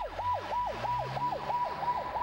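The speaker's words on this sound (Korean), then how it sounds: "선착장에서 기다리던 구급차는 송씨 부부를 태우고 가장 가까운 산부인과로 달렸습니다." An ambulance siren wails in steady repeating up-and-down sweeps, loud and close, with no talk, as the vehicle races from a ferry landing toward a hospital before dawn.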